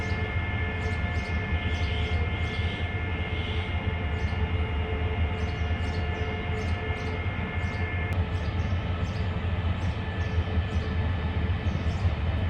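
Ordinary passenger train 201 rumbles steadily at Bangkok railway station, a continuous low mechanical drone with faint higher tones and intermittent clicks, no talking.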